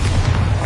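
A Bombarda explosion spell in Hogwarts Legacy, a short loud deep boom with a rumbling low end, alone.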